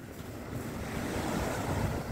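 Waves at Kessingland Beach wash steadily onto the shore under gusting wind buffeting the microphone, a broad rushing surf that slowly grows louder, with no voices.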